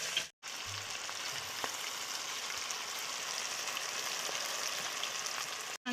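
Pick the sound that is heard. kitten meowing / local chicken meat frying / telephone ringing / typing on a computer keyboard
local chicken meat frying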